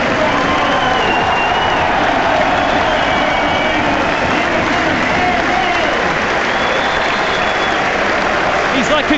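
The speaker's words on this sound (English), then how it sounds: "Off goes Dalby, wait for the cheer for Paul Mullin." A football crowd at Wrexham's ground roars and applauds for a substitute striker coming on against Doncaster Rovers, a loud sustained wall of cheering with a commentator speaking over it.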